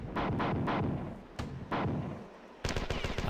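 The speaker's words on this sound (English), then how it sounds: "And you can keep following me, I'm just going to keep grenading you." Grenade blasts in the shooter game Marathon 2: Durandal, a quick run of heavy booming explosions in close succession, then a brief lull and another loud burst near the end.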